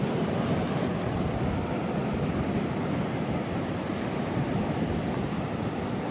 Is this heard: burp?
no